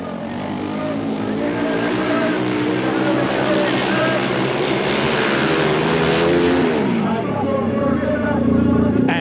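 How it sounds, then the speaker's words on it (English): A 600cc four-stroke single-cylinder motorcycle engine revs steadily at a 1996 dirt-track training ranch, a loud continuous drone that rises and falls in pitch with a surge near the end. "let's listen to that 600cc 4-stroke single rev as Jones hunts for grip"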